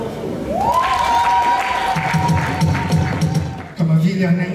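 A crowd at a gathering congratulating a community leader breaks into applause, a soft rush of clapping underneath a sustained voice and other speech.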